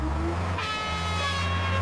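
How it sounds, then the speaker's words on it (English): Off-highway truck on a construction site, a loud, close, sustained engine roar with a rising mechanical whine that builds and then cuts off abruptly. "O, off-highway truck."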